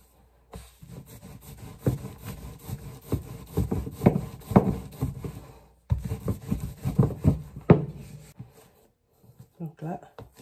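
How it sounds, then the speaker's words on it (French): Cassava dough being kneaded by hand, giving bursts of soft rubbing, pressing and slapping that come in irregular rhythmic strokes, close and fairly quiet, with a short pause midway and brief speech near the end. "je vais prendre encore un autre morceau pour pétrir."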